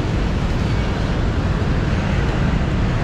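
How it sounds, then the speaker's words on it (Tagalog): Dense roadway noise from many vehicles in heavy traffic on Road 10 near Intramuros, Manila, a loud steady broadband rumble with no breaks. "Medyo traffic ngayon kasi may sunog ngayon dito sa Road 10. Kaya ang dami sasakyan."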